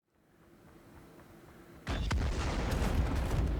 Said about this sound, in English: now we have a secondary explosion and now everything is destroyed